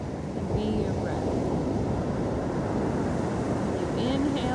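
Surf on La Playa Negra, Costa Rica, washing in as a steady broadband rush, fairly close and continuous, with wind buffeting the microphone and a few faint birdlike chirps above.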